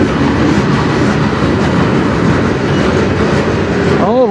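A CN freight train on the Strathroy Subdivision rolls past with a mid-train DPU locomotive, producing a loud, continuous rumble and roar of wheels on rail close by, with a brief wheel squeal near the end.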